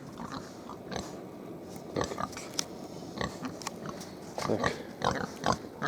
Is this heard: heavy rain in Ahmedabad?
no